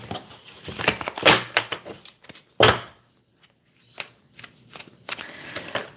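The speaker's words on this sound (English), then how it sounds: "I'm going to actually shuffle one more time" Tarot cards being shuffled by hand, several quick riffling bursts close up with short pauses and soft thumps between them, no talking.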